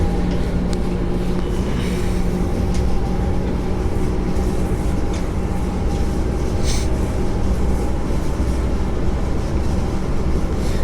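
Steady, loud rumble and hum inside a Mandurah Line passenger train running between Aubin Grove and Rockingham in Perth, with constant low drone and faint rattles, no talk.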